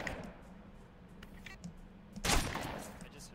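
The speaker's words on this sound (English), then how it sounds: "There's somebody shooting guns." Gunfire in the video game Project Winter crackles faintly in the background, then a louder burst of shots erupts near the end, heard over low game ambience and some indistinct voice chatter.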